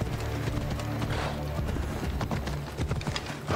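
A horse galloping in Assassin's Creed Odyssey, its hooves clip-clopping in a quick, steady rhythm, close and fairly loud, with game ambience underneath.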